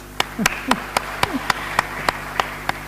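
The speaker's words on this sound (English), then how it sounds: "please give yourselves a big round of applause" Audience applause at a campus talk comes through as evenly spaced, sharp claps at a steady rhythm over a low room hum, with brief voice fragments in between.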